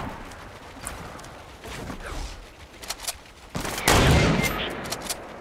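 A FAMAS rifle fires in Fortnite, scattered bursts of shots at moderate distance that build into a loud, close volley near the end.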